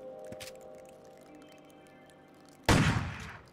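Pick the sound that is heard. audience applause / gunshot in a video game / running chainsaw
gunshot in a video game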